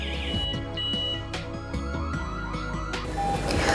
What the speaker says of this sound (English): After the siren sound beep beep and the OLED display success